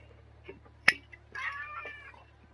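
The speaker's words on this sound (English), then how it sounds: "Oh, getting a talking to from the cat." A cat meows close by: a sharp click, then a drawn-out, wavering meow of about a second, with faint background hum.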